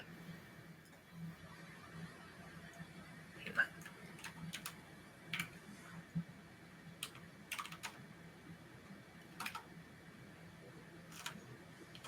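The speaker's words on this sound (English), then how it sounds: "Hold on, I'm typing him a message" Keyboard typing in irregular, scattered key clicks, fairly quiet and close, over a steady low background hum.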